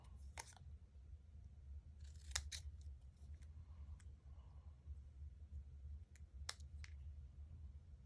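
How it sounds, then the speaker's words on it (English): Scissors trim paper for a Stampin' Up! craft treat box, giving a few crisp, separate snips spread across the moment, close and fairly quiet over a steady low room hum. "And then we're going to trim that a little closer."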